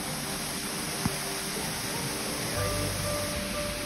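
Water pours from a sewage outfall on the coast of Tenerife, a steady broadband rushing and splashing that is loud and continuous, with a brief knock and a faint tonal hum near the end.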